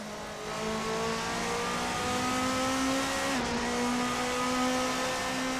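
A Tatuus NT07 Formula Master race car engine in the video game Assetto Corsa roars at high pitch, revving up through the gears in a loud, continuous whine.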